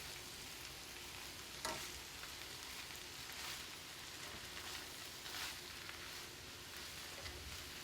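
Greens and garlic sauté in olive oil with rendered pancetta fat, a faint, even frying hiss running steadily with a single soft bump of stirring partway through, no voices.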